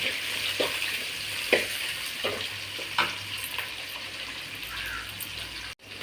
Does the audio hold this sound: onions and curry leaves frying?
yes